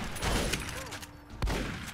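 Gunfire from the video game Fallout New Vegas: dense, rattling shots and impacts crowd a two-second stretch of game audio, with one sharp crack standing out near the end.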